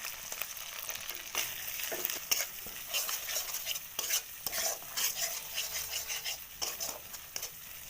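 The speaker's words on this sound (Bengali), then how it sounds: "এবার আমি হলুদ গুঁড়ো লঙ্কা গুঁড়ো দিয়ে দেবো" Ginger-garlic paste with chili paste, turmeric and chili powder stirred in a hot pan while frying, the spatula scraping and tapping in brisk strokes over a soft sizzle, close and quiet, no voices.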